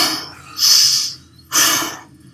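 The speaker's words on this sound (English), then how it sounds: "The exhale through the mouth." Two strong breathy bursts a second apart, close and loud, each a rushing exhale through the mouth during a breathing exercise, with no talking.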